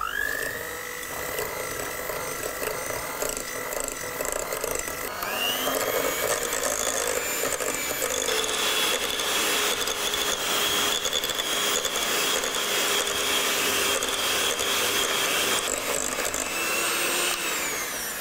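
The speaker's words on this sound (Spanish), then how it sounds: "Lo que vamos a hacer ahora es batir hasta que logremos un color más pálido." An electric mixer whirs steadily while beating sugar into a chocolate hazelnut pudding batter, a loud, close, continuous motor drone whose pitch shifts a few times as the speed changes, with no speech.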